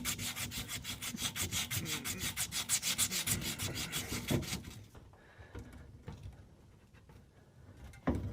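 A refrigerant line is cut back at a leak near its flare fitting, making a fast, rhythmic rasping stroke for about four seconds that then drops to quieter scraping and handling.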